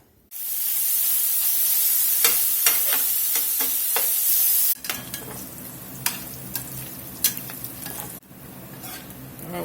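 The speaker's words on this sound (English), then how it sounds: "Let's get some bacon sizzling." Loud, close sizzling of bacon frying in a skillet, a dense crackling hiss with sharp pops, dropping to a quieter spattering crackle partway through.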